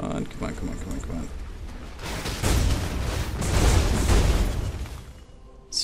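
Explosions in the Path of Exile video game using a Discharge build burst in a dense cluster of booming blasts, building to a loud peak before fading, with a player talking over the game sound.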